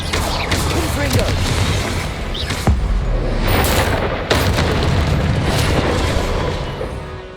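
A Confringo spell blast in Hogwarts Legacy, heard as a loud, dense stretch of booming, crackling magic combat with sharp bursts around the middle. It carries on continuously with no talking.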